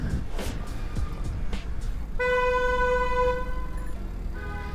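A car horn blares in a sustained honk for about two seconds, followed by a shorter honk, over a steady background of street traffic.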